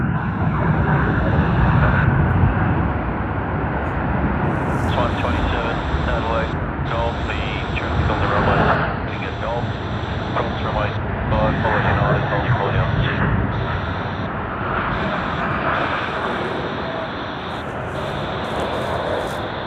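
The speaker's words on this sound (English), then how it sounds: "And New Zealand Boeing 777, wow, with a full white color." Air New Zealand Boeing 777 in an all-white livery at Sydney Airport, a steady broadband jet roar heard from a distance, with people talking over it throughout.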